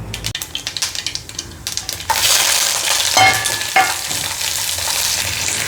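Mustard seeds and fenugreek sizzle and pop in hot oil for a tempering, with crackly stirring noises at first and then a loud, steady frying hiss with sharp spatters.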